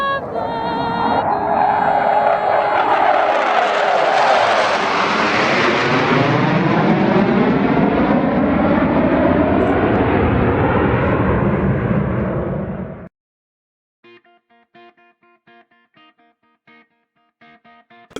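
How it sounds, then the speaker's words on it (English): Jet engine roar from a Thunderbirds flyover in Las Vegas, a loud sweeping whoosh swelling and shifting pitch for about thirteen seconds before cutting off abruptly, followed by faint scattered clicks and ticks. "And of course, the Thunderbirds for the flyover as well."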